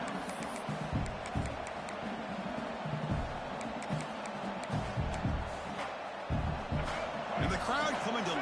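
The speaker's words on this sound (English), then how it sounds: "And the crowd coming to life here" Stadium crowd noise from a college football video game, a steady roar of cheering mixed with thumps and impacts, under continuous commentary.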